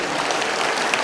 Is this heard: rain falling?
no